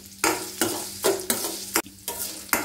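Ginger stir-fried in a pan for a Tamil thuvaiyal, heard as repeated bursts of sizzling and scraping, about six strokes in quick rhythm, close and fairly loud with no voices.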